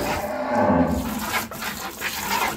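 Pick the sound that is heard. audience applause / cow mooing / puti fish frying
cow mooing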